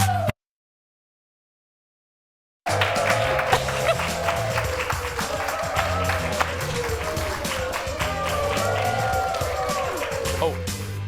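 TV studio audience noise begins after a brief silence: clapping and crowd murmur rise and hold at a steady level, with a voice talking over them.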